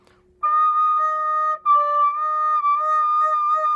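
A recorder note played with only one of the two small paired holes covered, giving an off, undesirable tone: a clear sustained whistly pitch with overtones, held in three phrases with short breaks and slight pitch shifts.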